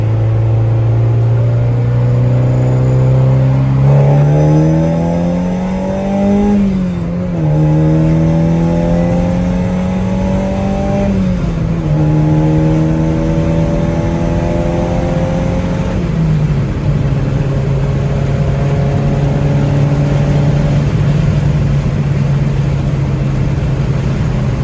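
An Acura Integra GSR engine revs up through a hard acceleration pull, its loud drone climbing in pitch in repeated surges with brief drops at each gear change, steady and close with no talking.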